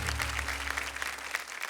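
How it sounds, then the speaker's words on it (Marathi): Applause for two kirtan performers being invited onstage at a Marathi devotional kirtan competition stage show, a dense steady patter of clapping held at an even level over a low background hum. "जोरदार टाळ्या झाल्या पाहिजे त्यांच्यासाठी"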